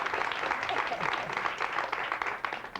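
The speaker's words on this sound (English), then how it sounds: "All right, now some applause, if you will." An audience claps steadily at a moderate level for a short stretch, a dense patter of hands without distinct individual claps and with no voices rising above it.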